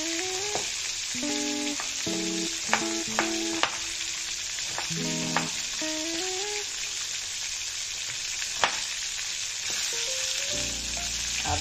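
Brinjal (eggplant) pieces fry in hot oil with a steady, broadband sizzle throughout, broken by a few sharp pops and clicks and faint tonal kitchen sounds, close and fairly loud, no talking.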